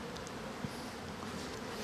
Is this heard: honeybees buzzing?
yes